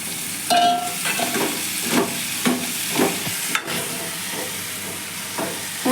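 Pumpkin frying with tomatoes in a hot pan, stirred with a spoon: steady close sizzle and hiss with repeated scraping strokes every second or so, no talking.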